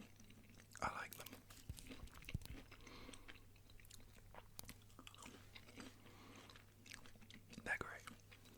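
Fries are chewed and crunched close to the mic in soft, intermittent bites, with quiet whispered talk between the crunches.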